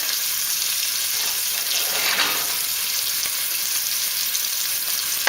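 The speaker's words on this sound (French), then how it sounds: "Donc faire revenir l'ail et l'oignon." Garlic and onion sauté in a pot for a one-pot couscous, giving off a steady, close sizzle that holds at an even level the whole way through, with no voices.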